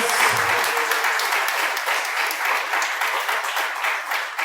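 A church congregation claps loudly together, a dense steady roar of many hands that continues without pause from start to finish.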